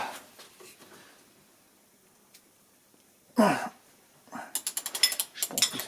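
A ratchet works an accessory belt tensioner on a Citroën C4. Quiet handling noises give way to a sharp clank, then a fast run of close, crisp ratcheting clicks near the end.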